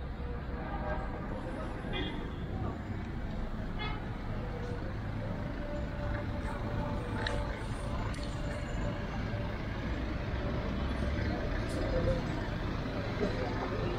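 City buses idle at a night-time bus station in Aqaba, Jordan, giving a steady low engine rumble with a broad traffic wash over it and faint voices in the background.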